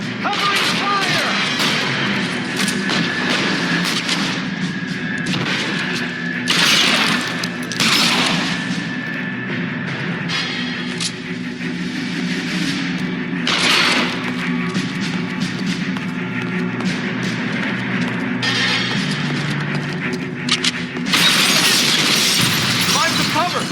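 A firefight in L.A. Noire mixes scattered gunshots and heavier booming blasts with shattering impacts. Voices shout over the gunfire throughout, the shots coming in irregular clusters at varying distances.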